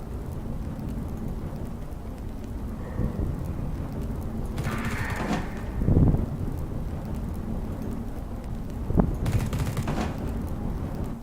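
Gunfire in the video game The Red Solstice, with two short, sharp bursts of shots several seconds apart over a low, rumbling background.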